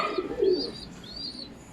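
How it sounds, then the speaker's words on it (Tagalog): A racing pigeon arrives at the loft after a training toss from Lumban, Laguna, giving soft coos and a few faint chirps nearby, with quiet outdoor background and no talking. "May dumating tayong isang ibon."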